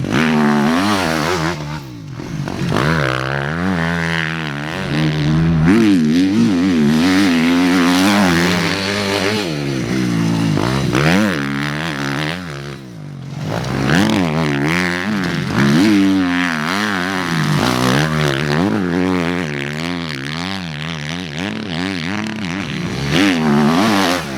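A Suzuki RMZ250 dirt bike runs a full lap of a rough motocross track, its engine loud and close throughout, rising and falling in pitch with constant revving, throttle blips and brief dips between bursts of acceleration.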